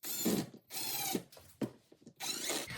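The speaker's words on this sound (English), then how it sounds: "I pre-drill the holes and countersink the screws." A power drill pre-drills holes and countersinks screws in a workshop, several short bursts of whining motor separated by brief pauses, close and clear.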